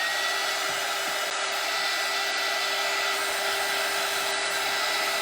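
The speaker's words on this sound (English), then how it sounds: "I'm gonna hit this with a dryer real quick" A hair dryer blows on an animal-print ornament canvas with foil, giving a close, loud, continuous whooshing roar that holds steady throughout.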